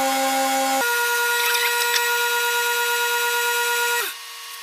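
Steady high whine of a lathe spinning a cast Alumilite acrylic pen blank during sanding, with a dense harmonic drone that shifts pitch slightly near the start and drops in level at the very end.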